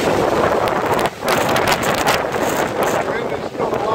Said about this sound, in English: Wind is still blowing good.